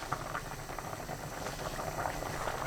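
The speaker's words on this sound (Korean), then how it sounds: "새알 넣고 끓입니다" Mugwort rice balls simmering uncovered in seaweed soup in a pot, giving a steady, close bubbling and gurgling boil that carries on evenly without any voices.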